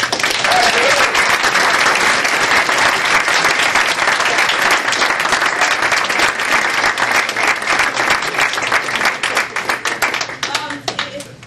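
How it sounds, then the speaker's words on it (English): Sustained applause from a large audience at a talk event, dense and steady clapping filling the room for about ten seconds before starting to thin out at the end. "A big round of applause"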